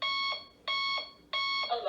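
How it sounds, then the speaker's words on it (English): Reminder Rosie talking clock plays an electronic alarm tone: three steady beeping bursts in a regular rhythm, each about half a second long with short gaps, heard close and clear. "To choose an alarm sound, say alarm 1, alarm 2,"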